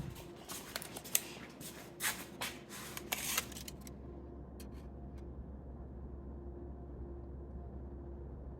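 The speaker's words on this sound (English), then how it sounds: "I get my handy dandy tape measure" A tape measure handled in a workshop while a drivetrain is being mounted: a run of quick rattling clicks and snaps in the first few seconds, then a couple of faint ticks over a low steady hum.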